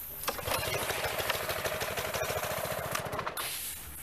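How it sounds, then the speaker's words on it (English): A car engine runs steadily nearby with a rhythmic mechanical pulse, loud and close, then cuts back toward a quieter hum near the end. "always have your car running"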